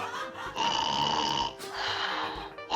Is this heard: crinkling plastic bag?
no